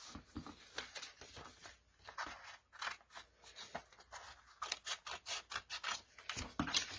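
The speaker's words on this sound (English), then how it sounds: "I'm going to cut it to the size so it just glues right down there" Scissors snipping paper to size for a handmade window envelope embellishment, a run of short crisp cuts and rustles, close and fairly quiet, with no talking.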